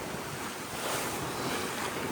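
A rocky sea washes and rushes continuously around a sailing boat, a broad steady roar of surf mixed with gusting wind against the microphone.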